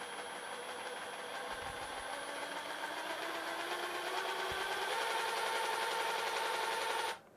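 A Bosch GST 183 Li 18V cordless jigsaw runs in first gear, holding a continuous buzzing whine throughout that stops abruptly near the end, steady and close with no speech.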